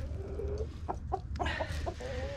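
Several short chicken clucks in quick succession over a low steady background rumble, fairly close.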